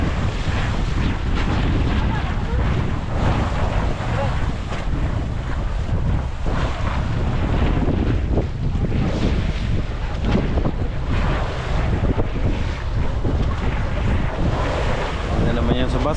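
Strong wind at sea off Basco, roaring steadily against the microphone with surf and a boat on the water, loud and close throughout, no voices.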